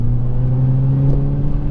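A Nissan Juke Nismo RS accelerates through the gears with a steady, loud engine drone and whirring tone, heard briefly from close by with no talk.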